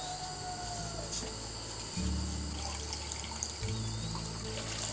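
Cold well water pouring in a steady, continuous trickling stream with a low hum beneath and faint insect chirps in the background, no talking.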